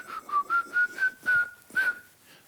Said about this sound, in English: I need the lullaby to be something that you come out and you whistle